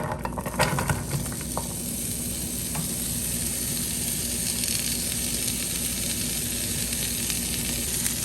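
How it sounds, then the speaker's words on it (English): Onions sauté in heated olive oil in a pan on the stove, a close, continuous sizzle with a few light utensil clicks early on and no talking. "add your onions."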